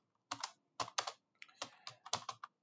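Keys tapped on a computer keyboard while a prompt is entered, in several quick bursts of clicks separated by short pauses, close and fairly quiet with no voices.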